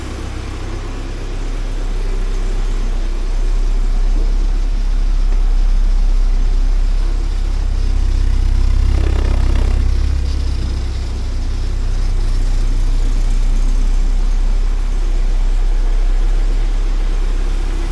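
A 1979 Porsche 924 engine idling, a steady low rumble with a constant hum, close and even, swelling slightly in the middle with no talk.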